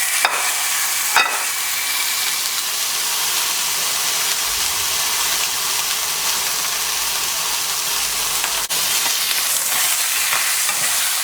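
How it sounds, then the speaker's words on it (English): A steak seasoned with salt and pepper sears in a very hot pan, giving a loud, steady broadband sizzle that runs unbroken for the whole stretch, with a few brief clicks and no talking. "Now we're gonna cook our steak."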